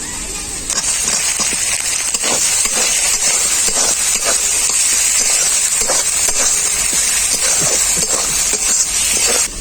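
Chopped tomato added to spice paste in a hot pan for a Bengali fish curry, a loud, continuous steamy sizzle and hiss that starts abruptly and holds steady, with occasional stirring scrapes.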